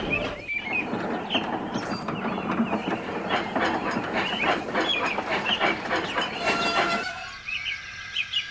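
A diesel train thunders past at close range, a loud continuous growl and roar with rattling wagons that holds for about seven seconds, then cuts away abruptly to quiet.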